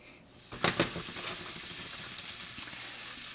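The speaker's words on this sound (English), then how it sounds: "Patty has me browning the meat first. Some Italian sausage and some ground beef." Italian sausage and ground beef browning in a pan for a classic lasagna, a steady close sizzle building after a few sharp crackles and spatters, continuing evenly with no talking.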